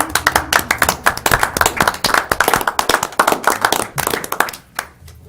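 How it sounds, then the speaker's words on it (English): A meeting audience claps together in a sustained round of applause of dense, overlapping hand claps, close and loud, that thins out and fades near the end. "I think applause is the right idea"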